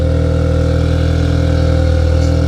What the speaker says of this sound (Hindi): अब इसके अंदर अगर हम इसको स्टार्ट करते हैं, इसके अंदर एग्जॉस्ट है जॉन कूपर वर्क्स का।